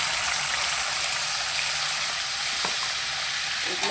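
Potatoes frying in hot oil, a steady close sizzle and crackle holding at an even level throughout, with no talk over it.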